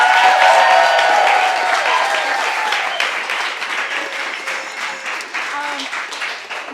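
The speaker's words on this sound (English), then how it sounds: "please clap the loudest you've clapped the entire evening for Olivia Holesinger" Loud, dense applause mixed with cheering fills a storytelling night at the Madison Story Slam, greeting storyteller Olivia Holesinger, then gradually thins and softens toward the end.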